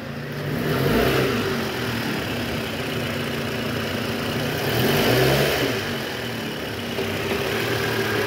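Toyota Camry XV40 engine with a dirty throttle body revving up, two swelling rises in engine pitch over a steady idle-like drone, close and fairly loud with no talking.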